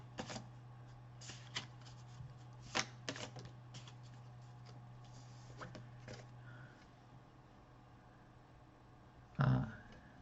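Tarot cards shuffled and drawn during a reading, a quiet scatter of soft riffling flicks and slaps, then a louder card handling burst near the end, no talk.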